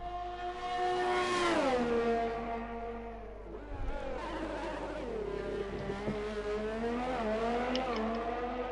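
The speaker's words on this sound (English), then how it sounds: "Senior Ghost in his Alpha is first to be starting his hot lap." Race car from a racing video game starting a hot lap at Baku, its engine note rising sharply then dropping and climbing again through gear changes, fairly close and alone.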